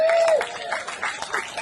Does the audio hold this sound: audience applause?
yes